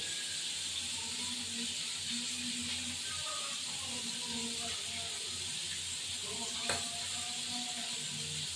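Panch phoron spices sizzle in hot oil with a steady, fairly faint hiss, along with scattered small pops and one brief click near the end.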